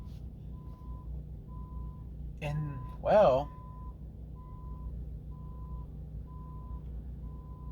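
Steady reversing beeps from a vehicle repeat in an even rhythm at a distance, fairly faint over a low engine rumble, with a short spoken phrase cutting in midway.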